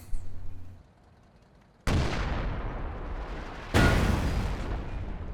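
Tank shells from a Bulldozer Sherman in a strategy video game slam into cover, two loud booming impacts a couple of seconds apart, each followed by a long rumbling decay.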